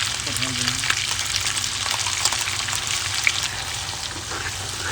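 Vegetables stir-fried with raw chilli flakes for a chilli fish dish: a steady, close, loud sizzle of hot oil with soft scraping stir strokes throughout.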